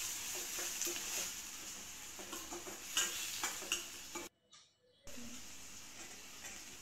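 Chopped onions, two of them salted, sautéing in oil for a dhaba-style egg curry, a steady crackling hiss with scattered stirring clicks, briefly cutting out before resuming.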